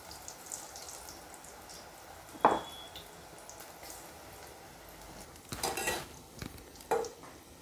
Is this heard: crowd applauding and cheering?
no